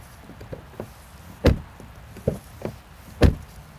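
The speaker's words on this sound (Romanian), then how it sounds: "Asta este sunetul de închis de ușă de Porsche" Several solid thuds of a Porsche Macan's doors being shut, three louder slams spaced out among softer clicks and knocks, in a quiet space.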